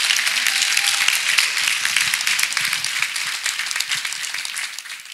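A church congregation claps after a testimony, with dense, fairly loud applause of many hands that holds steady and then thins toward the end, without talk.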